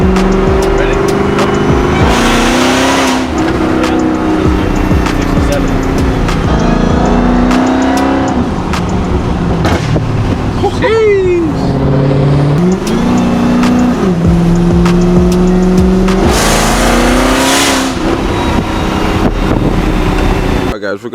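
A cammed 1,100-horsepower Dodge Hellcat engine running on E85 idles with a loping, choppy rhythm and then revs up and back down several times, loud and close throughout, with some talk mixed in.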